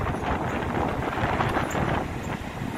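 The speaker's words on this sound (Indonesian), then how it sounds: "Sampai malam ini cuacanya masih keras, masih anginnya masih kencang." Strong wind buffets the microphone at the port of Sorong, a continuous loud roar and rumble with gusty swells.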